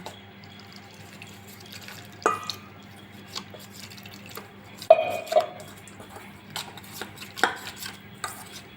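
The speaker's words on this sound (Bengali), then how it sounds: "জল দিয়ে একটা ব্যাটার গুলে নেব" Flour batter being mixed by hand with water, seasoned with a little chili powder and coriander leaves: quiet, sparse wet clicks and small splashes with a few sharper taps, no talking.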